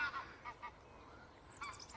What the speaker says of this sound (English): Awful lot of geese flying over today.